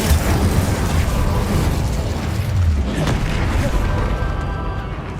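Spell effects cast in Hogwarts Legacy gameplay, a dense, continuous stream of magical bursts, blasts and impacts that stays loud throughout without pause.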